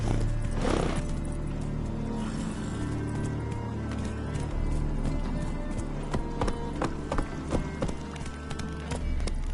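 Roach, a horse in The Witcher 3, gallops with steady clip-clopping hooves throughout, a brief whinny near the start and a continuous game ambience underneath.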